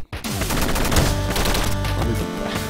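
A machine gun fires in the video game Downwell: loud, dense, rapid-fire shots run nearly nonstop for a couple of seconds.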